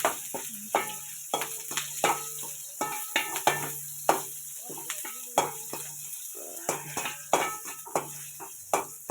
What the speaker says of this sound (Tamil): இஞ்சி பூண்டு போட்டு பச்சை மிளகாய் போட்டு நல்லா வதக்கிக்கோங்க.